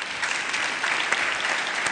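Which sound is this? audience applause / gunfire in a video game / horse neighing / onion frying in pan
audience applause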